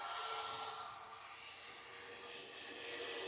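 A jet airliner taking off at Manchester Airport, a steady broad engine roar with a whining tone, heard at moderate distance and holding fairly even throughout.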